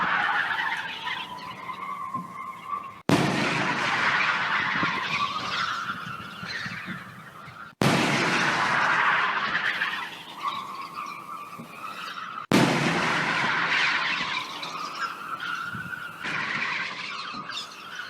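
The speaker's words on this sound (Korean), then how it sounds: "이것은 헤일 캐논 우박 방지 대포라고 합니다." An anti-hail cannon, a weather control device, fires four times at regular intervals. Each sudden blast opens into a long, loud, rushing whoosh that fades until the next shot.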